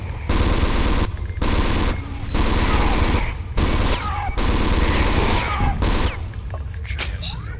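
Sustained machine gun fire against aliens in the video game Alien Resurrection, with loud rapid bursts separated by short pauses and a few impacts and crashes mixed in.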